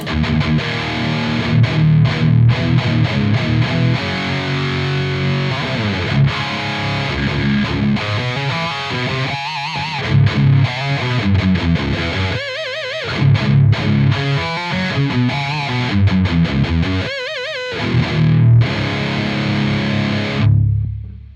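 Electric guitar through a Soldano SLO-100 amplifier pushed into power tube breakup, giving a thick distorted tone with strummed chords and quick phrases, loud and close, with short gaps between bursts and no talking.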